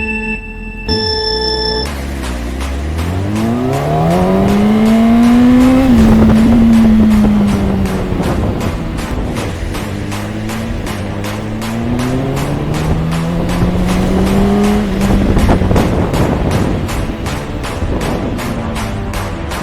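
A sport motorcycle accelerating on a short ride, engine pitch climbing through gears in rising sweeps, easing off, then climbing again, loud and close with wind noise and no talk.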